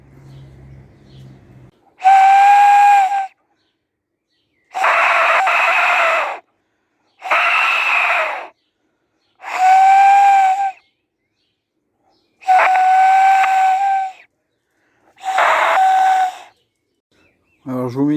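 A death whistle is blown in six separate loud blasts, each a shrill screeching whistle with a hollow, owl-like hooting tone, separated by short silences and preceded by faint background noise.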